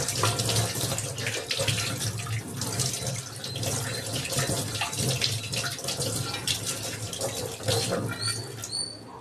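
Freshly gutted fish rinsed under a running tap in a sink, steady splashing water throughout with a few small clatters and faint bird chirps near the end.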